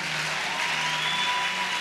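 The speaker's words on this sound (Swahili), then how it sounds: "Haya, mpigie Yesu makofi" A church congregation claps together in praise, a dense, even wash of applause that holds steady throughout with no voices over it.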